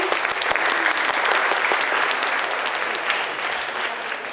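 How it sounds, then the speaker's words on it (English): An audience bursts into sustained applause during a school visit, dense and loud clapping from many people that holds steady and eases slightly toward the end. "Can we give a round of applause, please?"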